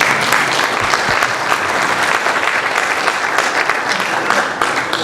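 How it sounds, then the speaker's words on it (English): An audience at a community tsunami-risk outreach meeting applauds a community member who stands up, with steady, dense clapping sustained throughout at a fairly loud level, no voices rising above it. "So we ought to applaud this gentleman, John."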